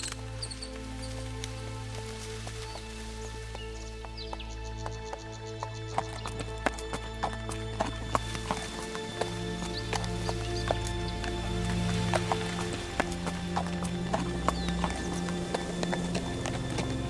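A horse carries a rider and a boy, its hooves clip-clopping in a steady rhythm over a bed of sustained low music and ambience, with an occasional whinny.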